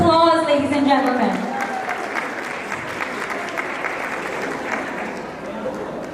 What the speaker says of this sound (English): Performance needs a big round of applause, ladies and gentlemen.